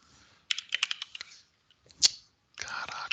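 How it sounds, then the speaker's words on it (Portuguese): Computer keyboard keys clatter in quick bursts on a Windows keyboard hooked up to a Mac during an online coding session, close-miked clicks in a run, a short pause, a single louder tap, then a denser flurry of typing. "Tô ouvindo daqui, você digitando o teu teclado"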